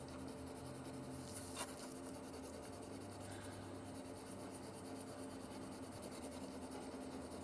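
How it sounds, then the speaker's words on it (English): Paper is rubbed and burnished down in a junk journal with a soft, continuous scratchy friction. It is faint and close, with one brief louder scuff. "if I really burnish that in"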